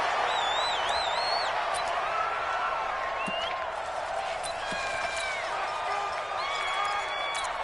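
A raucous stadium crowd in a football video game roars steadily, with scattered rising whistles and cheers in the background and a voice talking over it.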